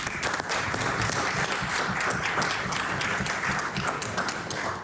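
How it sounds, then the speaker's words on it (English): Members applauding in a provincial House of Assembly chamber, steady dense clapping that holds at an even level throughout with no voices over it. "we shall all applaud them"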